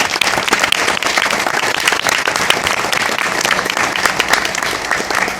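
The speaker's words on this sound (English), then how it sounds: "So round of applause to Mr. Merman." An audience at a school board meeting applauds a staff member with sustained, loud, even clapping that carries on evenly from start to finish.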